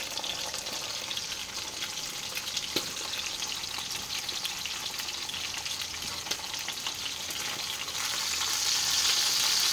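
Ham fries in a pan on high heat, rendering its fat with a continuous, dense sizzle and scattered pops that swell louder toward the end, no voices over it.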